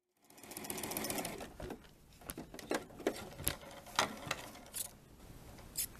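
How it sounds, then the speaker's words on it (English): A sewing machine runs a straight second row of stitching across the top of a baby dirndl apron panel, starting with a sustained whir, then breaking into short, close, rattling bursts with brief pauses between them. "I'm doing the second row of stitching now, which will be at about the 1/2 inch mark."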